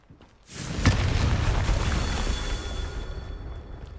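A Confringo spell blast in Hogwarts Legacy erupts with a sudden loud boom, followed by a sharp crack and a long rumbling, crackling decay that fades out over several seconds.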